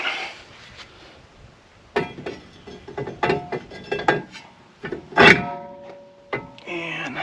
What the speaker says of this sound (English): All right, now we can put the rotor back